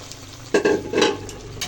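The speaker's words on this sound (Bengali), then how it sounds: "ছোলার ডাল দিয়ে এবার বেশ কিছুক্ষণ আবার নাড়িয়ে চাড়িয়ে নেবো" Sweet potato, potato and chana dal are stirred in a frying pan, with two short bursts of scraping and sizzling over a quiet background.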